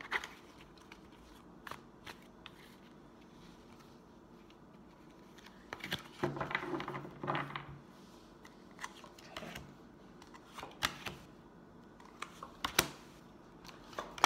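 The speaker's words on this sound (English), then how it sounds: "feel like it needs to be shuffled that much longer" A tarot deck is shuffled repeatedly, with crisp riffling bursts and scattered snaps and taps, a busier flurry in the middle, and quiet stretches between.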